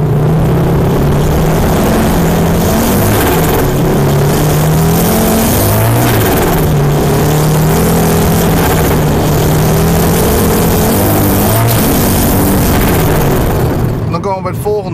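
Audi S1 engine heard from inside while riding along, a loud continuous drone that rises and falls in pitch as the car accelerates, with a voice talking over it.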